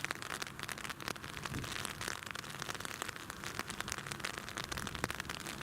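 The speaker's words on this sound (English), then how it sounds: "it is raining again" Rain falls steadily at an airport during a crosswind day, a dense crackling patter of drops hitting surfaces close by, continuous and fairly quiet with no voices.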